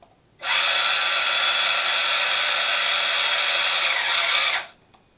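A new electric motor in a Wltoys A959 RC car spinning up abruptly, holding a loud steady high-pitched whine for about four seconds, then winding down and cutting off.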